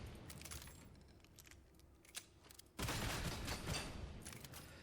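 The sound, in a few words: gunfire from a weapon at a Plague Ogre in Darktide video game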